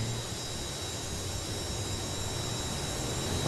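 Dusty Arfons' Dragon Lady pulling tractor warms up its engines at the 1993 National Farm Machinery Show. A continuous turbine-like roar with a high whine holds steady and fairly distant, swelling slightly at the very end.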